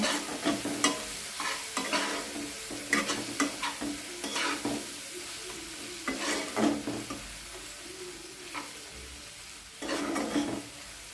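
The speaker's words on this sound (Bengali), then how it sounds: "মশলাটা আমি একটু হালকা করে কষিয়ে নেব।" Spice paste for pointed gourd korma fries in a pan with a continuous close sizzle, broken by repeated scraping stirs at an uneven rhythm, with no voices.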